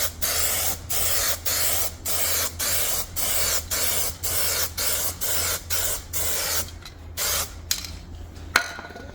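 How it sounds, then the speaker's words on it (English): Primer sprayed from a can onto a car bumper as a second, wetter coat, a series of about a dozen short rhythmic hissing bursts, close and loud, followed by a few clicks and a rattle. "We're going to go in now with a second coat of the primer."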